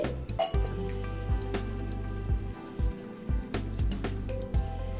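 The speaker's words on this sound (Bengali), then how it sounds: "ব্রাউন রাইসটা প্রথমে জল দিয়ে ধুয়ে নিচ্ছি" Brown rice being rinsed with water in a bowl, close splashing and sloshing in irregular bursts with drips and small knocks of grains against the container, no voices.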